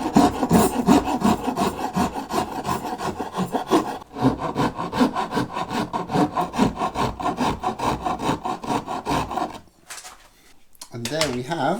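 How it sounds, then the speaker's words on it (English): A carving file rasps along a wooden Stratocaster guitar neck in steady, close back-and-forth strokes, pausing briefly midway and near the end. "let's get the carving file on it. And just remove any remaining excess material."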